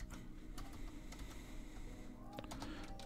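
Keys tapping steadily on a computer keyboard while entering free text in train-control software, quiet and close with a small burst of faster keystrokes near the end.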